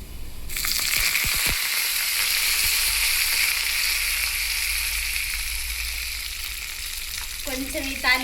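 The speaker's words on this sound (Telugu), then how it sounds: "ఇప్పుడు కరివేపాకు వేసుకోవాలి." Curry leaves dropped into hot tempering oil for gongura chutney, a sudden loud burst of sizzling that holds as a steady hiss with a few crackles and scrapes near the start, and a brief voice at the end.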